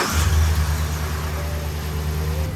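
A car engine is started by a Lokithor J401 jump starter pack with the vehicle's battery disconnected; the engine catches with a loud initial surge, then settles into a steady, low idle hum.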